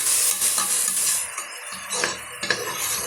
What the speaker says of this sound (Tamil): இப்போ இது முழுமையாக நல்லா வதங்கி வரட்டுங்க